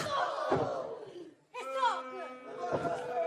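A wrestling arena crowd at a TNA Impact Wrestling event roars and cheers loudly, dips briefly to near quiet, then surges back with sustained yelling and chanting voices.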